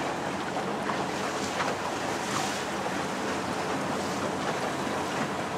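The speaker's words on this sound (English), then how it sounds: "So this is the beach." Surf at Playa Yelapa beach in Jalisco, Mexico, heard from out on the water as a constant broadband wash with wind noise and a faint boat-like hum, no talking.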